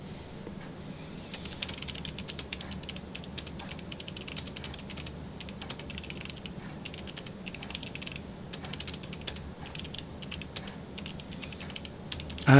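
Steady, continuous keystrokes on a replacement keyboard fitted to an Atari XE computer, close and fairly quiet, with an even clatter of keys throughout and no voices.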